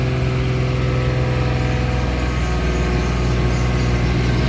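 An AMMANN AV16K 1.5-ton road roller with a Yanmar three-cylinder engine idling, a steady close diesel rumble with a constant low throb and no voices.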